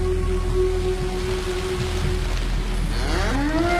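Steady rain pours down at a remote mountain farmhouse while a cow lets out a drawn-out moo near the end, its call rising over the constant patter.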